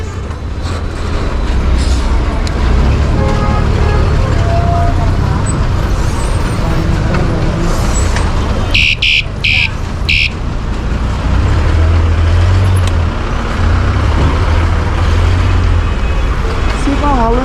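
A heavily jammed city road heard from a bicycle weaving through traffic: a loud, constant roar of engines and road noise, with a cluster of short horn blasts midway and voices talking over it.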